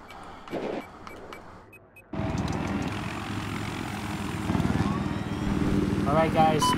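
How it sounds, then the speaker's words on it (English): An enemy helicopter flies in Rainbow Six Siege, a loud, steady engine and rotor drone that kicks in abruptly after a quieter start and continues under occasional voice chat. "I spotted an enemy chopper."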